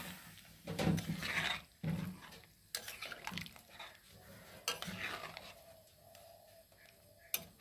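A utensil stirs prawn malai curry with coconut in a pan, giving intermittent scraping and clinking strokes with short pauses, close and moderately loud, with no talking.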